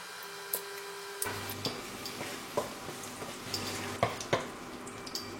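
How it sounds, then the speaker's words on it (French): Oil and butter sizzle in a pan over medium heat, a steady crackling fry with scattered sharp pops and light clinks from the pan, heard alone without speech. "on fait chauffer 2 cuillères à soupe d'huile et le beurre à feu moyen"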